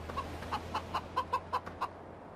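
A rooster clucks in Farming Simulator 15, a steady run of about eight short, evenly spaced clucks over a low hum and soft background hiss, fairly faint.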